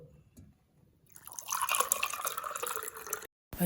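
Liquid poured into a glass with ice cubes for a lime drink, a short splashing pour that starts after a quiet moment and stops abruptly.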